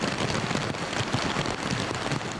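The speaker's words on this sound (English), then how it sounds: "an active southwesterly airstream continues to bring heavy rain and squally thunderstorms" Heavy rain driven by an active southwesterly airstream amid squally thunderstorms, a steady dense hiss of downpour on surfaces that stays loud and even throughout, with no voices.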